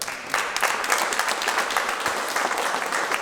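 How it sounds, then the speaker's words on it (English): An audience at a fire department union press conference breaks into steady applause, many hands clapping together in a dense, continuous roar that holds at an even level from start to finish. "We can clap for that, right, guys?"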